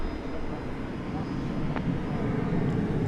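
An American Airlines jet departing DFW Airport produces a steady, distant engine roar that holds throughout, with a person talking over it.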